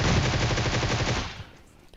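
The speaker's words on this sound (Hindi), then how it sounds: "अब देखो मैं फालतू की गोलियां चला रहा हूँ" Rapid sustained bursts from a DP-28 light machine gun in PUBG Mobile, loud and close, firing continuously for over a second before tailing off into echo.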